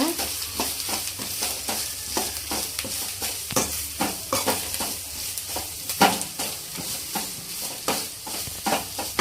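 A spoon stirs fish curry with grated coconut in a hot pan, making repeated rhythmic scraping strokes over a steady background sizzle.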